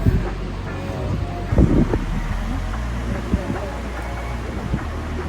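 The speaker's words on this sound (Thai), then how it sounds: "ลมแรงมากนะคะ" Strong wind roars across a mountain top at Phu Kradueng in Thailand, a steady low rumble buffeting the microphone throughout, with a voice faintly audible beneath it.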